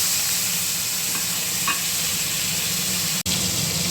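Tomato and green chili fry with cumin, bay leaf and dried chili in a pan, a constant loud sizzle close by, with a faint scrape of stirring and a brief sharp click near the end.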